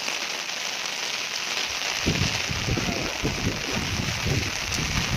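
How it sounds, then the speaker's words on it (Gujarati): Heavy monsoon rain pours down outdoors in a steady, loud hiss, joined partway through by a patter of low, irregular thumps from drops striking nearby surfaces. "જો તમે આ વરસાદનો માહોલ"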